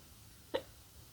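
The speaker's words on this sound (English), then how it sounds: "I get the hiccups all the time." One single soft hiccup sounds from a person, a short quiet click-like catch of breath against a faint background hush.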